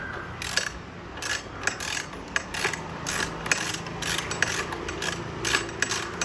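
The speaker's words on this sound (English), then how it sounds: "I've got myself a 8mm Allen wrench." Bolts on a convertible tandem bicycle being snugged with an 8mm Allen wrench, giving repeated close ratcheting clicks and metal scrapes in an uneven rhythm, with no talking.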